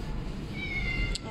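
Cats meowing from inside a travel crate at an airport cargo drop-off in South Africa, a couple of short mid-pitched cries over steady background rumble, with people talking nearby.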